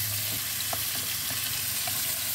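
Tomatoes drop into hot oil in a pan for sinigang, giving a bright, dense sizzle with scattered pops and spatters, steady and close with no voices.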